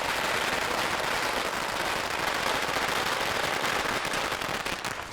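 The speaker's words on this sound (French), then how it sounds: "Allume les feux d'artifice." Fireworks and firecrackers set off for a celebration in a rural Chinese town, a dense unbroken roar of crackling bursts that stays loud and continuous throughout, with no talking.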